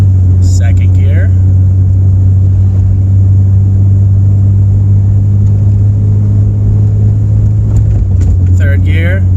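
A Jeep XJ moving slowly drones with a loud, steady low engine hum as its automatic transmission shifts from first into second gear, with a brief change in tone near the end; someone talks over it.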